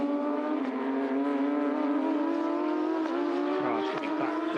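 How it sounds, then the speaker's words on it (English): Porsche Carrera Cup race cars drive slowly back into pit lane after a race, their engines a steady loud drone with shifting harmonics and rising and falling revs near the end, continuous throughout. "Cars coming back to the pit lane."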